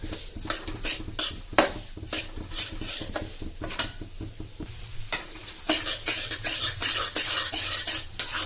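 Roasted flour is stirred in ghee in a pot for traditional pak ladwa, a close, uneven run of scraping spoon strokes and clinks over a soft sizzle.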